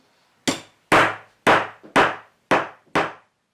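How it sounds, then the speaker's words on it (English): A wooden toy woodpecker hammer from a Tender Leaf Toys tap tap tool box strikes six crisp, hollow wooden taps, evenly spaced about half a second apart, close and clear against silence. "of course a fantastic woodpecker hammer"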